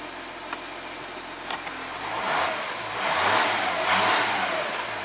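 A 2014 Audi Q7 TDI diesel engine on a test drive, a steady close engine drone that swells twice as the vehicle accelerates, with no talking.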